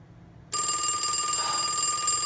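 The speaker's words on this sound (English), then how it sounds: "This phone was from 1976. So let me let you hear it." A 1976 Mickey Mouse novelty telephone bursts into a loud, steady electronic ring after a brief quiet moment and keeps ringing without pause, close up and alone.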